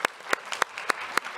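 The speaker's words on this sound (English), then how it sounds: "give a round of applause to all our speakers and panelists" Applause for speakers and panelists at a conference session, with a few sharp, evenly spaced claps standing out over a soft background of clapping for about a second and a half.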